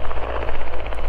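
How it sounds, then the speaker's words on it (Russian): A red-orange fire helicopter with a blue stripe sets down near a mountain trail at Rakhmanov Springs in Kazakhstan, its rotor chopping in a loud, close, steady pulse throughout the short burst. "Ого, вертолет садится там."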